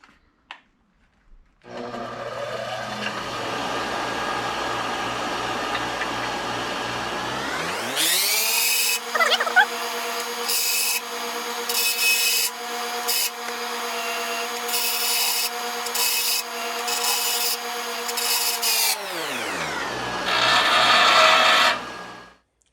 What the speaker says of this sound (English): that's as far as I'm going to take that on the grinder